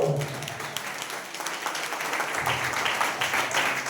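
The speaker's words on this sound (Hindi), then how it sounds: "जोरदार ताली बजाओ।" A church congregation claps loudly after a prayer, with dense, steady applause filling the room, some scattered voices at the start and a soft vocal exclamation near the end.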